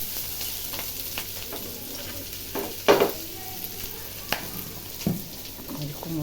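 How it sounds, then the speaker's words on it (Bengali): A vegetable bhaji sizzles in a pan while it is stirred, with a low steady frying hiss broken by occasional scraping knocks of the spatula; a voice is faintly present. "ভাজি উঠেছে, ভাজি নাড়তেছি"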